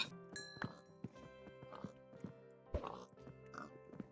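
Minecraft pigs give short, faint grunting oinks at irregular moments, with soft game footsteps and other quiet game sounds around them.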